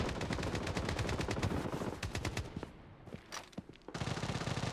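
Dense rapid automatic gunfire in the mobile shooter game Project BloodStrike, a loud fast stream of shots with a brief stuttering lull before firing resumes.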